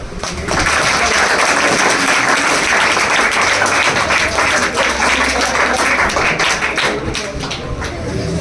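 A crowd of seated guests breaks into sustained, loud applause at an award ceremony honouring selected students, the clapping starting abruptly and continuing evenly to the end.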